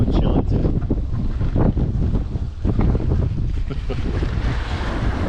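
Strong wind buffets the microphone on Bull Shoals Lake in winter, a loud, continuous roar mixed with the rush of water and waves, with no break in the noise.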